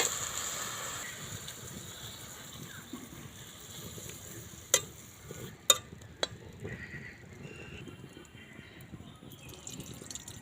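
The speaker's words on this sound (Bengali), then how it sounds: "দিয়ে দিলাম তেল ফোড়নে দিয়ে দিলাম কালো জিরে কাঁচা লঙ্কা বাটা আদা বাটা" Nigella seeds, green chilli paste and ginger paste sizzle in hot oil for a Bengali ridge gourd dish, making a soft, steady frying hiss broken by a few sharp clinks of a utensil against the pan.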